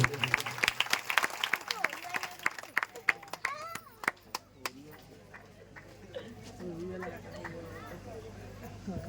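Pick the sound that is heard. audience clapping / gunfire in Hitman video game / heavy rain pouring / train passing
audience clapping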